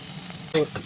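Potatoes fry in a pan with a short burst of sizzling and a quick scraping stir, close and brief.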